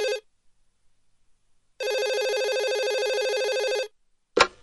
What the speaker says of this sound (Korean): 지금 전화가 오셨는데요